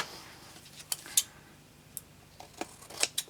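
Big scissors cutting paper for card making, with several quiet, sharp snips spaced irregularly over a near-silent room.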